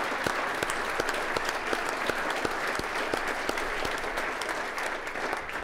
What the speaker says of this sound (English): One more round of applause to these extraordinarily great contributors.